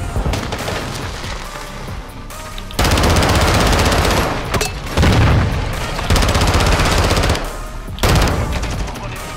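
Rapid automatic gunfire and heavy booms from Call of Duty: Modern Warfare 2 multiplayer burst in loud, repeated volleys with brief pauses between them.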